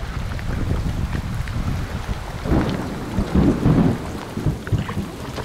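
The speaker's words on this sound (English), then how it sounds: "Well, this thunderstorm has really rolled in." Thunderstorm rolling in over a remote wilderness camp, with deep rumbling thunder swelling in several bursts over steady rain and gusting wind, loud and fairly close throughout.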